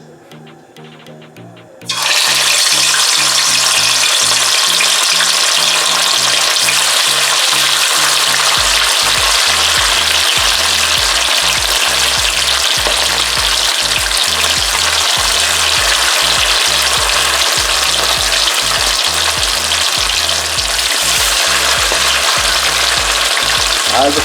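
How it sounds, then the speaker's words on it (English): Marinated fish pieces for Jamaican brown stew fish dropping into about a cup of hot oil in a pot, bursting into a loud, steady, close sizzle that fills the whole stretch after a quiet start. "fish pieces are marinated and I'll be browning them now"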